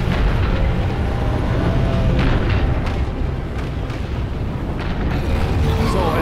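A car explodes in a virtual reality demo as a loud, sustained roaring rumble with crackling bursts scattered through it, dense and continuous from start to finish.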